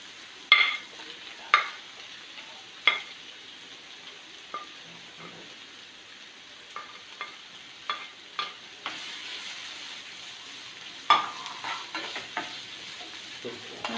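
Sliced onions sauté in a pan with green chilies for a chicken cake, soft sizzling under repeated scraping stirs of a spoon, close and clear with no talk.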